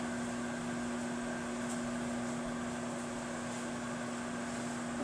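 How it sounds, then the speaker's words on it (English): Steady mechanical hum from a running microwave oven, with a constant low drone, continuous and unchanging throughout. "just open the microwave, give it a quick stir, and keep going."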